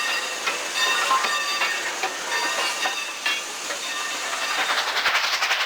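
A 1925 Baldwin 2-8-2 steam locomotive pulls out of town with steady loud hissing steam and rhythmic chuffing, its whistle tones ringing over the exhaust, heard from a moderate distance with no voices.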